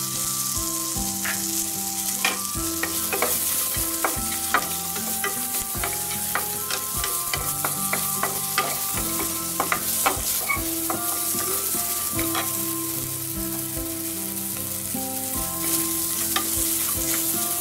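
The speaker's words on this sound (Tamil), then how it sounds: "கொஞ்சம் வதங்கினா போதும் ரொம்ப வதங்கணும்னு இல்ல" Vegetables sizzle loudly in a hot pan for tomato soup, with repeated clinks and scrapes of a spoon stirring throughout.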